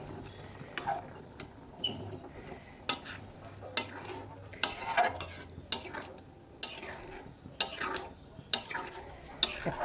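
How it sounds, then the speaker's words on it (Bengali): A spoon scrapes and knocks around the inside of a pressure cooker while dal is stirred in water, with sharp metallic clinks at irregular intervals over a quiet kitchen background. "আবার আমি ভালো করে নেড়ে ছেড়ে নেবো"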